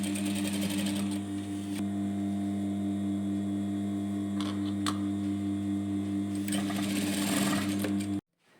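A sewing machine runs steadily, stitching a garment yoke to the front bodice with a loud, even motor whir and rapid needle ticking, close up, before stopping abruptly near the end.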